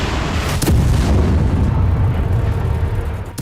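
Missile strikes in war footage produce a loud, continuous rumbling roar of explosions, with one sharper blast standing out early and heavy low-end booming throughout.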